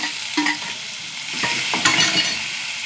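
Crushed small shallots and chillies sizzle in a pan with mustard seeds and curry leaves, a continuous close frying hiss with a few sharp crackles and spatula scrapes, no talking.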